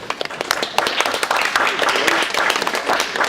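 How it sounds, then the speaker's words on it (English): Audience claps for the hosts at Lexington Country Club during a school program, a burst of close, uneven hand claps with individual sharp slaps standing out, moderately loud for a few seconds. "I want you guys to give a round of applause to your hosts here for Lexington Country Club"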